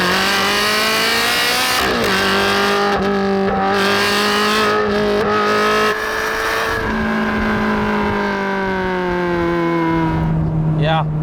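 A Ferrari 360 Challenge Stradale V8 drones loudly from inside the cabin while driving, the engine note rising and dropping through gear changes, steady and close throughout.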